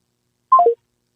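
A quick run of three descending telephone dialing tones sounds clearly and alone, a short close electronic beep sequence lasting under half a second amid silence.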